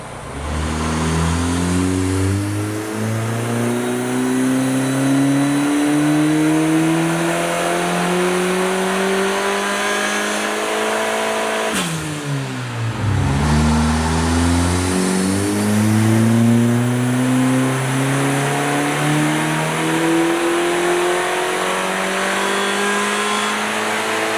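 A turbocharged Honda K20 engine revs hard on a dyno, loud and close, its pitch climbing steadily in long pulls, dropping sharply mid-run, then winding up again with a strong harmonic whine.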